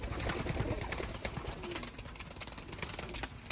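Young racing pigeons in a loft coo softly amid a busy wash of rustling and background noise, faint and close.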